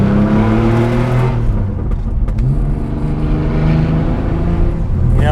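A vintage Porsche 911 engine revs and pulls while cruising on the road, a loud, close, continuous drone with rising and falling pitch through the whole stretch.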